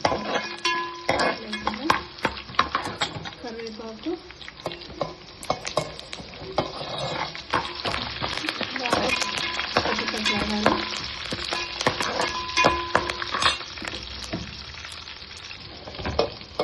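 Green chillies and dry red chillies sizzle and crackle loudly in hot oil in a pan for mango pulihora, with steady frying hiss and occasional spoon scrapes and stirring clatter throughout.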